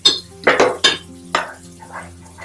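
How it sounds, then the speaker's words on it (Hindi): A spoon stirs tomato puree into matar paneer in a cooking pan. Several sharp metallic clatters and scrapes come close and loud, then ease into softer, wetter mixing sounds. "ये जो हमने प्योरी रेडी की थी ये ऐड कर, इसको हम कर लेंगे अच्छे से मिक्स।"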